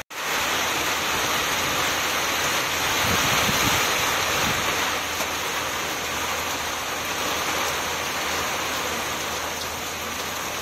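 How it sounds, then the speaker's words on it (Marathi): Heavy rain driven by stormy wind in Nashik, a loud unbroken roar of downpour with gusty swells, steady throughout and without any voices. "आज पुन्हा अचानक मेघगर्जनेसह वादळी वाऱ्यात जोरदार पावसास सुरुवात झाली आहे"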